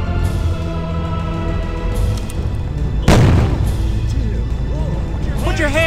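A flashbang grenade goes off in the tactical game SWAT 3, a single loud sharp bang midway through, amid game ambience and radio-style voices talking before and after.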